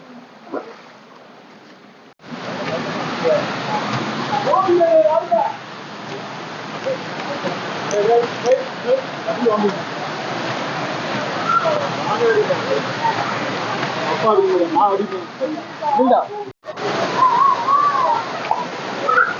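Mekkarai Manalaru waterfall in Tenkasi roars as a steady, dense rush of falling water that is loud and close, with people's voices faintly mixed in.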